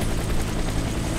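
Helicopter in the Warface video game, a loud close rotor drone with a steady rapid thumping pulse, continuous throughout the short span.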